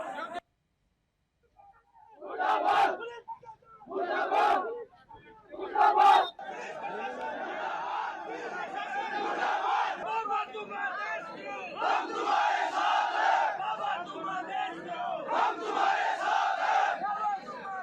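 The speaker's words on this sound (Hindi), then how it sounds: "पुलिस प्रशासन मुर्दाबाद के नारों के साथ लोगों ने जमकर हंगामा किया" Angry crowd at a police station in Rajasthan chanting slogans against the police: loud rhythmic shouted bursts after a brief silence, then continuous overlapping crowd yelling and chatter.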